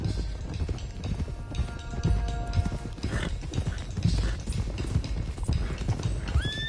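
Horses clip-clop at a gallop through a western video game, hooves thudding steadily, with a loud neigh and whinny rising near the end amid the busy game soundscape.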